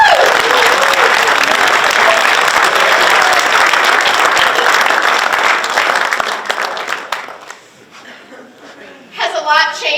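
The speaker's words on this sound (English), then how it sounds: "Let's give them a round of applause." Applause from attendees at a 2025 annual instructors meeting, a loud burst of crowd clapping lasting several seconds that gradually thins out and fades, followed by a brief pause and then someone speaking.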